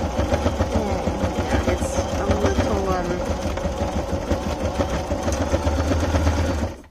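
A sewing machine straight-stitching the top and bottom of a 9x6 softback fabric journal cover runs loud and steady up close, a continuous rapid mechanical whir that stops abruptly at the end, with a voice talking underneath.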